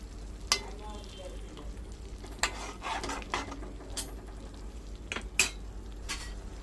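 Onions and chicken frying in a pan, stirred with a utensil: a low background sizzle broken by several sharp scrapes and clinks against the pan, with no talking.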